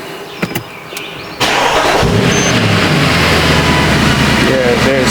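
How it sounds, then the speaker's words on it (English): A Mercedes ML63 V8 starts with a sharp crank and catch after a few quiet clicks, then settles into a loud, steady, close-up rumble that holds to the end. "Now I'm going to start the engine."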